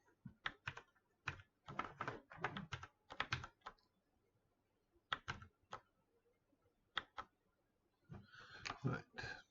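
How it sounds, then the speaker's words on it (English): Bursts of typing on a computer keyboard, quick clattering runs of keystrokes separated by short pauses, close and fairly quiet with no talk. "Oh, keyboard."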